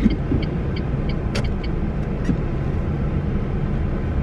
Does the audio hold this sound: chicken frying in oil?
no